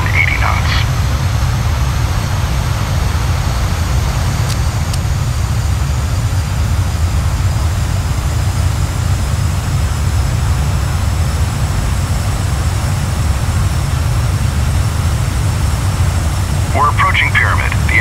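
Jet airliner engines in Flight Simulator X, with thrust reduced on approach, hold a steady, loud, low rumbling drone throughout, with faint brief sounds near the start and end.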